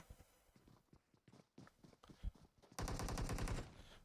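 Video game gunfire from a competitive match: rapid, loud bursts of automatic fire come in a dense, sustained volley near the end, after scattered lighter shots and footstep-like taps.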